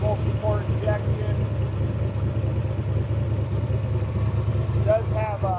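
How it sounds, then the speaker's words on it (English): A fuel-injected 427 Ford Windsor V8 in a Factory Five MK4 Cobra replica idles close by with a deep, steady, lumpy rumble, while someone talks over it in brief bursts. "Ford Windsor V8. Engine sounds awesome."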